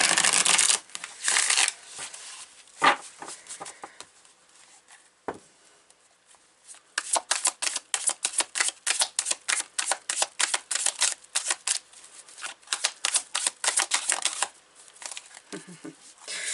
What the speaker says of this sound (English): as I was shuffling those cards